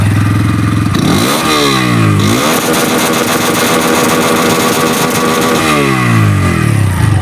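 A Bajaj Pulser N125 125 cc motorcycle starts on its self-starter with a smooth catch, then its engine runs and revs up and down loudly at close range, with rising and falling pitch sweeps, with no voices.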